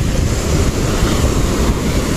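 Ocean waves at a beach, heard as a loud, rushing broadband roar of surf mixed with buffeting wind on the microphone, continuous with no voices.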